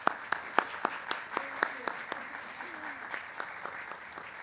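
An audience applauds to welcome a speaker to the podium at an anniversary screening event, with scattered, moderately loud clapping and distinct individual claps that gradually thin out.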